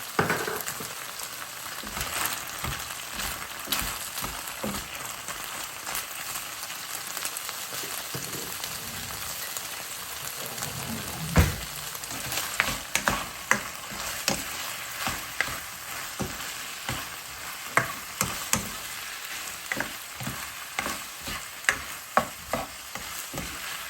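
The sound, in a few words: onions frying and being stirred in a pan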